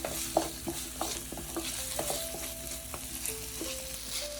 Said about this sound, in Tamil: வெங்காயம் இப்போ கோல்டன் கலராக வதங்கிடுச்சு.